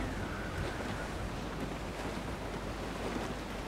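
Wind and ocean waves at sea in the Assassin's Creed 4 Black Flag video game, a dense steady rushing wash of surf and gusting air, fairly loud and constant with no voices.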